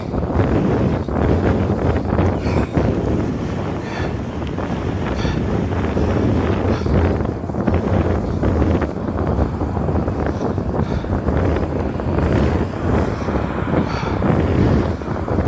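A strong headwind buffets a cyclist riding along the Jeddah Corniche seafront, a continuous loud, low rumbling roar of wind against the microphone that gusts unevenly throughout.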